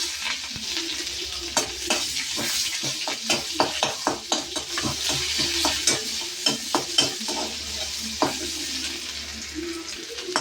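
Onions and cumin sautéing in a pan with a little tomato for kurma, a constant close sizzle punctuated by rhythmic spatula scrapes and taps against the metal, no voices.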